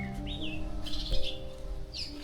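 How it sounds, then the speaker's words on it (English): Birds chirping in a vegetable garden in Hoi An, Vietnam, with several short, bright tweets and sliding calls over a steady low background hum, moderately close and with no one speaking. "listening to the birds"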